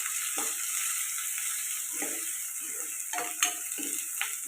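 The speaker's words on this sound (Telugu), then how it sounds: "ఇది కలుపుకొని ఫ్రై చేసుకోండి" Drumstick curry frying with turmeric in a pan, giving a steady sizzle across the whole clip while a utensil stirs and scrapes in several short, separate strokes.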